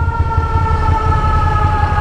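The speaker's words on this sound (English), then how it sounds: "there was a loud ass fire truck behind me" A loud fire truck siren wails steadily nearby, heard from a Ducati Monster motorcycle on a wet, cold ride, over a low rumbling engine, continuous throughout with no pauses.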